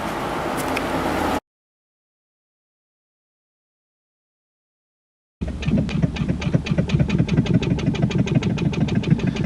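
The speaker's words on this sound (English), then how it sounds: "It's the unmistakable sound of the disappearing propeller boat" A small disappearing-propeller boat engine chugs with rapid, evenly spaced pulses: a brief burst of running, a few seconds of silence, then a steady close rhythmic putter.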